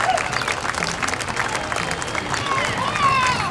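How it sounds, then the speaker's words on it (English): An outdoor crowd at a small-town Montana centennial parade gives a sustained round of applause and scattered cheers, steady and fairly loud throughout. "give all the participants in the parade a tremendous round of applause"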